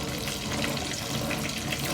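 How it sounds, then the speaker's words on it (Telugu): Water poured into a cooking pot while making kattipongali, a steady, fairly loud rush of running liquid that fills the whole short stretch with no speech. "కొంచెం వాటర్ పోసుకొని స్టవ్ మీద పెట్టుకొని కొంచెం అంటే 1 గ్లాస్ వాటర్ దాకా కలుపుకోవచ్చు"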